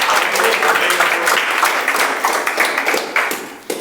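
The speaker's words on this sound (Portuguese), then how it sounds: "Quantos podem aplaudir e dar um grito de júbilo nesta manhã?" Congregation at a Christian worship service applauding and shouting for joy, a steady dense wash of clapping and cheering that holds throughout, then thins and tapers near the end.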